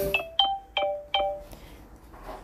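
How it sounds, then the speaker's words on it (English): A WhatsApp call ringtone plays through the infotainment speakers of an MG HS plug-in hybrid SUV: four bright, evenly spaced chiming tones ring clearly in the cabin, then fade into a soft tail. "But look what happens when I receive a phone call via WhatsApp."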